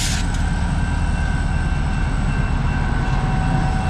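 A train rumbles past steadily and loudly at Rhodes Ferry Park in Decatur, a continuous roar of rolling wheels and rail noise with a faint high whine.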